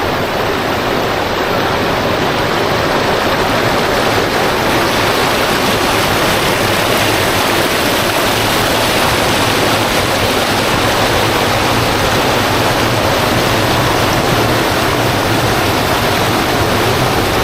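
Loud, continuous rush of fast-flowing water toward a drainage in Quezon, Bukidnon, a dense steady roar with no pauses or voices.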